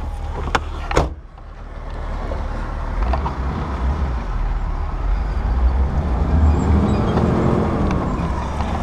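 A lifted 2004 Jeep Wrangler Rubicon drives along with a steady low engine rumble and road noise, some wind buffeting, and a couple of sharp clicks near the start.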